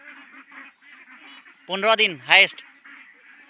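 Ducks on a duck farm in Jagiroad, Assam, give a couple of loud, close quacks in the middle, with someone talking softly before and after.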